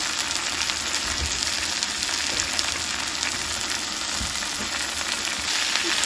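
A pan of masala with coriander powder fries in a dense, continuous sizzle that holds loud and even throughout, with occasional soft stirring bumps beneath it.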